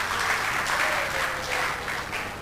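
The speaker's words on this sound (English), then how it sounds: "You can clap for him" Steady applause from an audience for a Faculty of Science award recipient at a ceremony, a dense wash of clapping that holds even for the whole stretch without voices.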